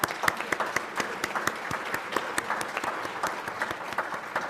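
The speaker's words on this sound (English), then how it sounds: "Let's just give them a big round of applause." Dense applause from an audience at a Rotary club meeting, honoring donors. Steady, fairly close clapping fills the whole stretch with many overlapping hand claps and no talk.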